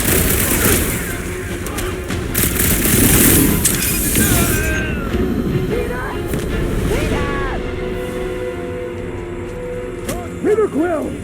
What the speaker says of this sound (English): Incoming explosion!